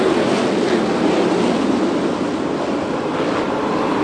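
USAC/CRA sprint cars racing at Perris Auto Speedway, a dense, continuous roar of engines from the pack at a dirt oval, heard steady and loud with no talk.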